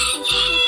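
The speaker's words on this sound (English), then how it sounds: "Chicken." A chicken, most likely a rooster, gives a brief, loud crowing call with a short break in the middle, heard alone without talk.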